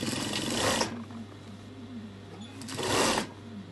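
A sewing machine stitches the fabric waistband of a full circle skirt in two quick close bursts of rapid whirring, separated by a short quiet pause with a low hum.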